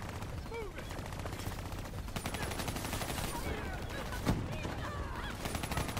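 Rapid gunfire crackles in the Call of Duty Black Ops 3 video game, dense and continuous over a noisy game soundscape, with one sharper shot standing out near the end.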